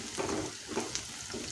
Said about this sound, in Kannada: ಈರುಳ್ಳಿ ಒಂದು ಅರ್ಧದಷ್ಟು ಬೆಂದಿದೆ. ಈಗ ಬದನೆಕಾಯಿ ಹೋಳನ್ನು ಹಾಕ್ಕೊಳ್ತೀನಿ.